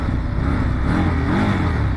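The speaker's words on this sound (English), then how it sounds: "let's take a listen to the stock exhaust" A 2025 Indian 101 Scout motorcycle on its stock exhaust revs close by, a loud, throaty engine note rising and falling steadily with no talk.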